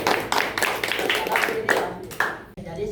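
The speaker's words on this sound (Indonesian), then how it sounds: "tepuk tangan toh" Students clapping their hands in a classroom, a quick run of bright rhythmic claps from a small group, moderately close, that breaks off abruptly near the end.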